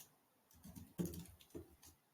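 Keyboard typing while entering a JQL query in Jira, a few quiet clustered keystroke clicks in light bursts, close and soft, with no talking.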